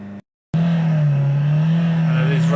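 A Ford Kuga engine with an intermittent DPF pressure sensor fault idles loudly after a short gap, then its revs climb and ease in a steady, close drone.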